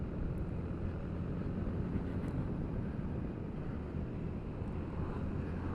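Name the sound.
Honda Forza 350 scooter engine while riding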